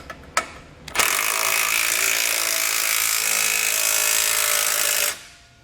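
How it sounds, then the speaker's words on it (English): Base plate bolts are tightened with a 3/4 inch socket and wrench: a few sharp clicks, then a loud continuous ratcheting buzz for about four seconds, heard up close and alone. "tighten down all of our hardware using a 3/4 inch socket and wrench"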